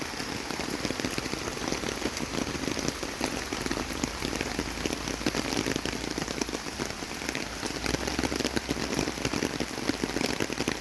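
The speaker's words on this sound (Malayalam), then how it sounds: "പോണ വഴിക്ക് നല്ല മഴയായിരുന്നു." Steady rain patters on surfaces along a road trip toward Bhoothathankettu in Ernakulam, Kerala, a dense continuous hiss with scattered drop ticks, close and fairly loud, no voices.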